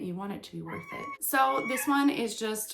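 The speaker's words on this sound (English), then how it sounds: "if you heard her meowing while I was talking about the last plant" A cat meows a couple of times in a home full of houseplants, the calls rising over continuous close talking.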